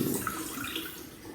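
Rice rinsed in water, a soft, continuous sloshing and running wash heard fairly faintly and close for a brief stretch, no one speaking.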